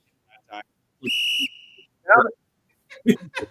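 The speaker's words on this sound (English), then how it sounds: "You just blow the whistle" A sharp referee whistle blast sounds once for about half a second, loud and shrill, at a Florida vs Toronto quarterfinal Game 7, with brief bursts of talk and noise before and after.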